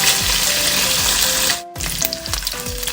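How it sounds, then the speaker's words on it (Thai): Pork belly sizzles and fries in a pan as it is stirred until golden, with dense crackling throughout, a brief dip in the middle, then steady spatter and scraping resuming at close range. "ตอนนี้น้ำก็แห้งแล้วนะคะเราจะลวนต่อให้เหลืองเลยค่ะ"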